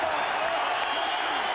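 A boxing arena crowd on its feet cheers in a dense, steady roar mixed with applause, loud and unbroken throughout the short moment.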